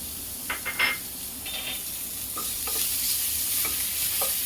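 Onions sizzle in a pan for kadhi pakoda, a constant hiss of frying close by, broken by several scraping clinks of a spoon stirring against the pan.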